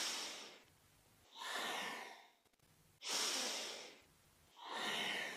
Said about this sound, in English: slow it right down with a longer, slower, deeper breath